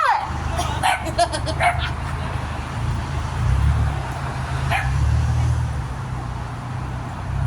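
Dogs bark near a property on rural acreage, several sharp yips and barks bunched in the first two seconds and another near the five-second mark, over a steady low rumble like a passing car.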